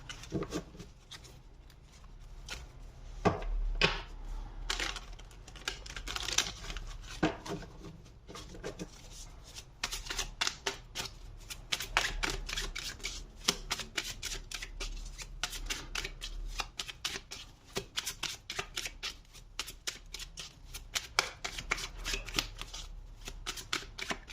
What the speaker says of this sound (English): Sometimes the shuffling is very smooth, and other times that happens.